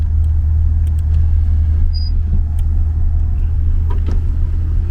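A Citroën CX Athéna driving with the windows open, a steady broadband road and wind rumble with low engine drone, loud and continuous throughout with a few faint clicks and no talk.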